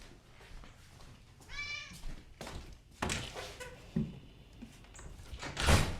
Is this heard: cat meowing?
yes